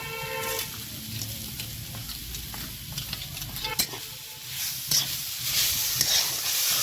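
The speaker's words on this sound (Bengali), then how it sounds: "নারিকেল গুড় একসঙ্গে এইভাবে মিশিয়ে নেব" Steady scraping and stirring of grated coconut and date-palm jaggery in a pan with a soft background sizzle, occasional sharp clinks of a utensil against metal.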